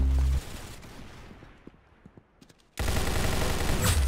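Gunfire in the Roblox game Arsenal comes as loud bursts of shots, then a quieter stretch of scattered single pops before heavy firing resumes.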